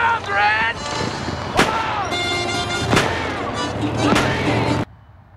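Guns boom in a 21-gun salute, several loud reports spaced a second or so apart, mixed with a film soundtrack and voices talking over the shots.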